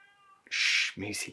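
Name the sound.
cat meowing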